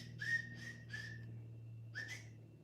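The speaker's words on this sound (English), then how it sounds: "I can't whistle. If I whistle, it's like," Someone attempts to whistle, producing short, breathy, wavering whistle notes: three quick tones, a pause, then one more, over a low steady hum, with no voices.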